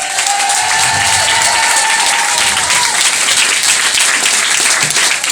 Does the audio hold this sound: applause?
yes